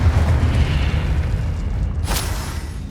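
Confringo fire-blast spell in Hogwarts Legacy landing as a deep, rumbling explosion, a sustained low boom filling the whole moment with a brief sharper crackle near the end.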